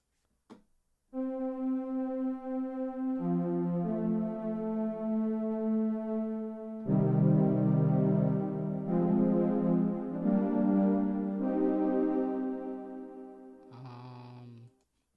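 A lush synthesizer pad preset in Studio One 3 plays sustained, layered chords that swell and shift through several changes, rich and smooth, with no voices.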